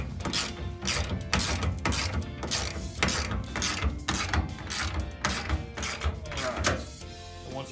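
Fasteners being tightened with a ratcheting tool while a rail is installed on fiberglass steps, a steady run of rapid, close clicking strokes that continues without pause and stays fairly quiet.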